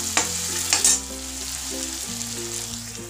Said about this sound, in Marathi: कांदा छान परतला की मग आपण बाकीचं साहित्य घालूया.